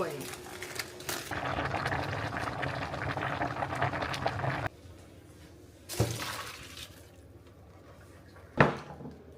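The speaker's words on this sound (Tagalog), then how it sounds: "Papakulo ako ng tubig para sa pasta." Water coming to a boil in a pot for pasta, a broad bubbling hiss that rises loud, then drops to a quieter simmer, with a few sharp clanks and a voice talking nearby.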